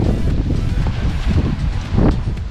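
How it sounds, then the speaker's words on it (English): Strong wind buffets the microphone near Roys Peak above Wanaka, New Zealand, a steady loud roar with rumbling gusts swelling around the middle and again toward the end. "now we are just taking a shelter from this wind"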